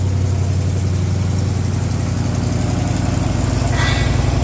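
A Plymouth Cuda's 392 Hemi V8 idles steadily through its exhaust headers, a loud, close, deep lumpy rumble with an even pulsing rhythm and no talking.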